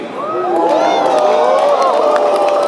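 A loud, sustained crowd roar at a Yu-Gi-Oh Championship Series duel in Providence, Rhode Island, with whoops and shouts rising quickly and holding steady for a few seconds.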